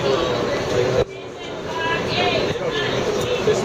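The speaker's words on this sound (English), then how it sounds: "Huge, you getting off the train?" Rumbling New York train noise with a steady mechanical roar and rattling, a brief dip in the middle, and muffled voices underneath.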